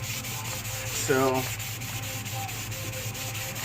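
Rhythmic back-and-forth rubbing as a metal trailing arm bushing seat is hand polished, a close, steady scraping swish repeating several times per second, with a brief spoken word near the start.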